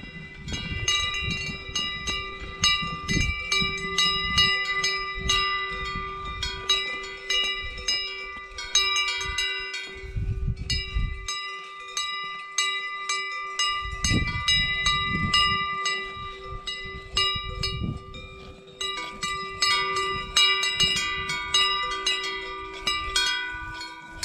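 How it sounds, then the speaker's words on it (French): Many cowbells on grazing cows near Pic du Jallouvre clank and ring in irregular overlapping patterns, nearby and fairly loud, with brief pauses and soft background rumbles. "le son des cloches de ces belles vaches qui sont en train de brouter"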